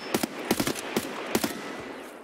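Bursts of automatic gunfire in Escape from Tarkov, several short volleys of sharp cracks spread across the clip, fairly close and loud, with no talk over them.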